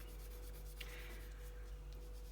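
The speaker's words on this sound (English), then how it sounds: "As I'm coloring with my color pencil, I want to apply a very light pressure" Colored pencil moving across paper with light pressure while coloring a candy cane, a soft steady scratchy rubbing, quiet and close, with faint strokes over a low background hum and no voices.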